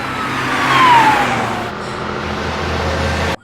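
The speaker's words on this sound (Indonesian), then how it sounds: "Komandan Gang berusaha mempercepat mobil menuju lokasi." A car speeds toward a location in a Korean crime drama, its engine a steady mid-range roar that swells briefly and then holds. A faint whine sits on top, close and continuous until it cuts off abruptly.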